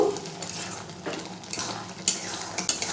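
A spoon stirs tomato chutney with panch phoron and dried red chillies in a pan, scraping and clicking against the metal over a soft, steady sizzle, with a few sharper knocks.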